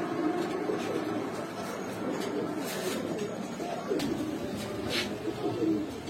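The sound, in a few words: pigeons cooing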